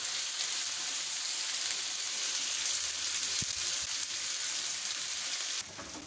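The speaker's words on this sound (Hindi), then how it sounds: "चिकन को अच्छे तरीके से हम भून लेंगे।" Chicken frying in a pan for paratha, a dense, steady hiss of sizzling oil heard up close, with a couple of faint knocks near the middle and the sizzle dropping slightly at the end, no talk.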